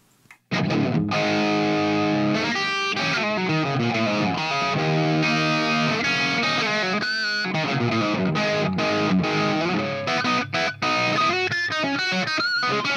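Electric guitar on the bridge pickup played through the mid-gain Tube 1 channel of a Hughes & Kettner Access tube preamp, chugging overdriven chords and riffs, loud and continuous with no other sounds.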